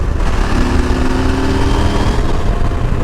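Close and loud, a CFMOTO 800 MT-X motorcycle engine buzzes and revs steadily on a twisty road, with a droning tone that holds for a moment before easing off.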